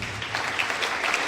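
An audience at a college drama production claps steadily in dense, sustained applause that carries on without a break.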